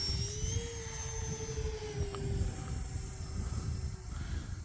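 A Twin Timber twin-engine RC model airplane flies past on approach to landing, with a steady whining motor hum that shifts slightly in pitch against outdoor wind noise, moderately distant.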